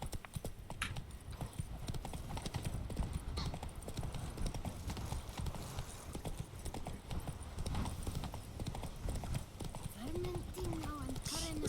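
A horse's hooves clip-clop steadily at pace in The Witcher 3: Wild Hunt, a continuous rhythmic patter of fairly faint footfalls with a brief whinny near the end, a voice talking briefly over it.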